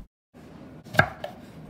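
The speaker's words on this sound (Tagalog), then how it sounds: "Ginayat na keso." Cheese being sliced for a dish with lettuce and tomatoes, heard as a single sharp knife cut with a lighter second stroke against a quiet kitchen background, no talking.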